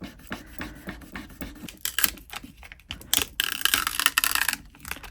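A squeegee rubs down a UV DTF transfer onto a resin candle tray, making close, scratchy rasping strokes in irregular bursts that grow denser and louder toward the end.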